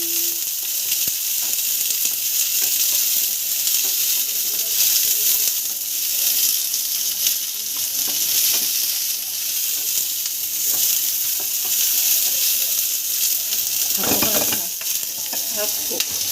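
Spring onion fries in a pan with a constant, loud sizzling hiss, punctuated by a few brief scraping and tapping sounds from stirring.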